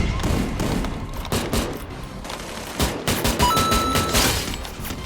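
AN-94 assault rifle fire in a video game: loud, dense bursts of rapid shots with heavy thuds, repeating over several seconds amid busy game noise.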